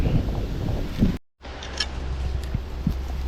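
Strong wind buffets the microphone while out on the water on a windy day. It makes a loud, rough, low rumble that drops out briefly near the middle, then returns steadily.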